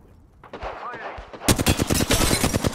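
Rapid automatic gunfire crackles close and loud in an Apex Legends match on World's Edge, beginning with a few scattered shots and then a dense burst of fire, with a brief voice near the start.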